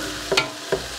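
Ingredients sautéed for a large batch of chicken and mixed-vegetable fried rice are stirred in a big pan, giving two short scraping stirs over a low, steady sizzle with no voices.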